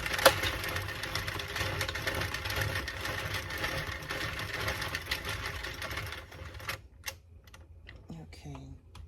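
A domestic knitting machine runs steadily for about seven seconds, a continuous close clatter of carriage and needles, then stops, leaving a few faint handling clicks and light movement near the machine.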